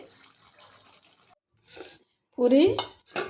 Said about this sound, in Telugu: ఇప్పుడు స్టవ్ ఆఫ్ చేసేసుకుని డిష్లోకి తీసేసుకుందాం.